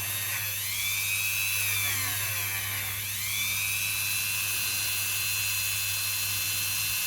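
A rotary burr grinds the cut edge of a 50p coin being made into a ring, giving a high, steady whine that dips and sweeps in pitch midway through, close and continuous with no talking.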